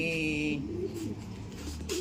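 Soft bird cooing, pigeon- or dove-like, repeating over a steady background with a faint voice at the end.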